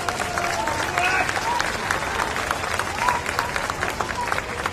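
An outdoor crowd at a justice rally in New York City applauds continuously, the clapping mixed with cheers and voices throughout.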